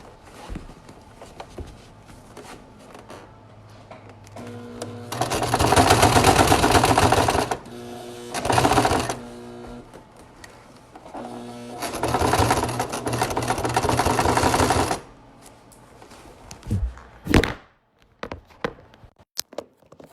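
A sewing machine stitches a patch onto leather in two long loud runs with a brief burst between, its rapid needle chatter steady and close, separated by quieter handling noises.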